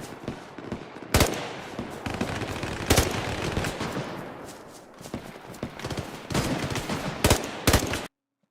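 Gunfire in the survival game DayZ, coming from behind: several sharp, loud reports spaced irregularly over a continuous rumble of game ambience, some shots clustered near the end.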